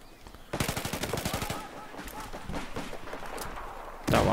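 Rapid bursts of gunfire from the video game Battlefield 4, loud and close, firing in quick clustered volleys with short pauses, then a final sharp burst at the end.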